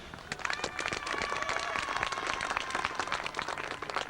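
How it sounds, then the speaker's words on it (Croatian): Stadium spectators at a Dinamo football match applaud the players, a dense, steady wash of clapping from a large crowd throughout, with faint cheers and a few distant tonal calls above it. "Molim posjetioce i navijače da pljeskom pozdrave igrače Dinama"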